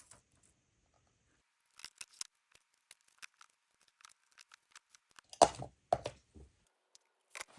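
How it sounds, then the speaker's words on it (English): Scissors snip through craft paper being cut for a picture frame dust cover, a scattered series of short, crisp cuts and paper rustles in a quiet room, with one louder crinkling burst near the end. "First, I cut an oversized piece of the paper"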